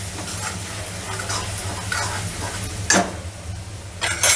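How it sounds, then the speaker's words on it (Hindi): Kasuri methi being stirred into a potato curry frying in a pan, a loud steady sizzle with a low hum beneath and scraping strokes of a spoon, including two sharper scrapes near the end, with no voices. "अब हम डाल देंगे इसमें 1 चम्मच कसूरी मेथी और इसको भी अच्छे से मिक्स कर देंगे"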